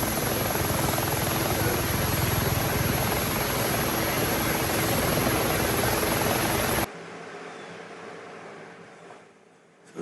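Simulated aircraft engine in the X-Plane flight simulator on approach to Cordova airport, Alaska: a steady, loud broadband drone with a high whine that cuts abruptly to a much quieter hum about two-thirds through.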